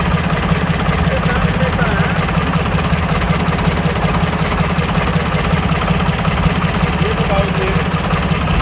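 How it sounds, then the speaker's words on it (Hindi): A tractor engine idles close by with a steady, even, rhythmic chugging and vibration, while someone speaks over the running motor. "यहाँ से हवा लेता है, इसको अगर हम बंद कर देंगे तो बंद हो जाएगा इंजन।"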